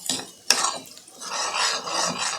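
A spoon stirs soya curry masala in a pan, giving close scraping and clinking strokes with one sharp metallic tap, and a soft sizzle underneath, with no voices.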